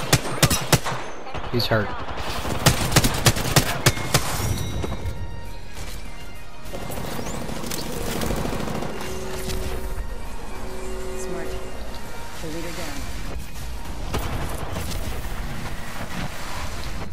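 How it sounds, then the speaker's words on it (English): Apex Legends gunfire rattles in loud bursts of automatic shots with crashing impacts, dense early on, then continuing under game music and tones while players talk over it. "Opening fire."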